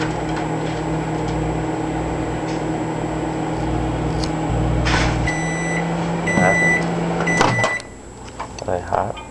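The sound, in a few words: microwave oven running, heating acorns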